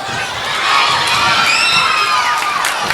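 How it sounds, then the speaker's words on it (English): A basketball crowd at a 2010 high school hoops classic, Ashford versus Rehobeth, roars and cheers continuously in a packed gym, with shrill whoops and children's shouts over a loud, sustained wall of noise and no talk. "The crowd has come alive."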